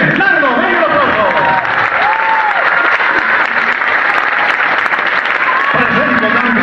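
Audience applauding a trumpet and sax player at an anniversary tribute concert, steady loud clapping from a crowd with some murmuring voices mixed in.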